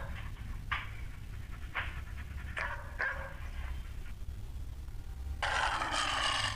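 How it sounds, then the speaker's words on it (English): A dog gives a handful of short, sharp barks spaced across several seconds, with a burst of panting or scraping noise toward the end, over a low background hum. "Dog, dog."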